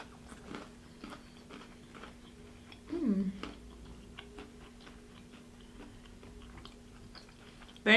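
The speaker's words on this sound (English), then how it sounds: "Very crispy. I hope you guys can hear that crunch." Big pieces of Indian restaurant food, chicken tikka masala and naan, are bitten and chewed close to the mic, giving faint scattered crisp crunches, with one louder bite in the middle and a few soft sounds around it.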